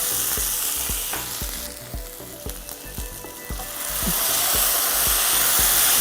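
A coriander and poppy seed paste sizzles loudly in a pan for a drumstick chicken curry, with regular knocks of a spoon stirring it, close and continuous.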